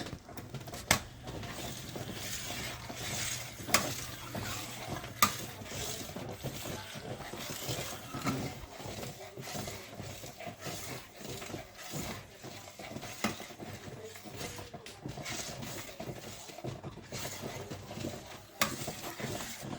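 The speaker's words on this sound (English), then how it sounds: "Now stir it up." A spoon stirring apple butter in a pot on a stovetop, a steady soft scraping with faint sizzle and occasional clinks, close and quiet.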